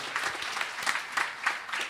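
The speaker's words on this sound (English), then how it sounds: "Let us give our Vyas a round of applause once again" A temple audience applauds at the close of a Bhagwat Katha session. It is a brief, moderately loud patter of clapping with several uneven swells, heard without speech.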